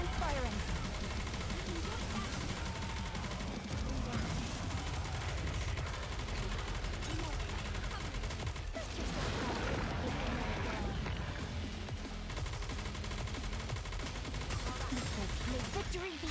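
Dense, continuous gunfire and explosive bursts from the mobile shooter game Goddess of Victory: Nikke, a busy, loud barrage of rapid shots and booms mixed with game character voices and effects.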